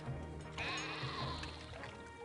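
A sheep in a video game bleats in a long wavering cry over a low background hum, close and clear, with a few faint earlier calls.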